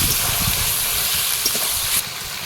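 Ginger garlic paste goes into chicken frying in a pan, giving a steady, close, loud sizzle and hiss throughout with no speech.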